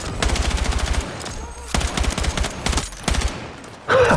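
Gunfire in the video game Battlefield 6. Rapid automatic bursts crackle loudly in several volleys with short gaps between them, and a brief sharper noise comes at the end.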